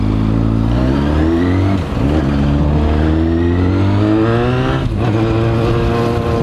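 A Yamaha FZ6N motorcycle engine revs while riding on wet roads, a loud, close, continuous drone that rises in pitch through gear changes, with no talk.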